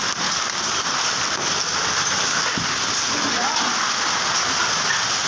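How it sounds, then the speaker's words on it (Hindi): Heavy rain with large hailstones falls in Islamabad, a dense, loud, steady hiss and patter on surfaces and cars, with a faint low thump partway through. "फुल बड़े बड़े औले पड़े हैं आज। मुसलसल बारिश हो रही है"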